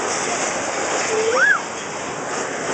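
Rushing, splashing water surrounds a raft on the Kali River Rapids ride at Disney's Animal Kingdom, a loud and steady wash of noise with one brief rising and falling squeal in the middle.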